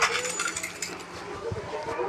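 Coins being collected in a mobile police video game, a dense stream of bright metallic jingling and clinking chimes that is loud and continuous over the whole stretch.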